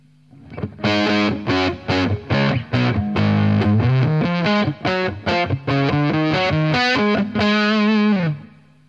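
A distorted electric guitar through a Zander Circuitry Terra Firma pedal plays a run of choppy notes and chords, gritty and saturated, ending on a sustained note.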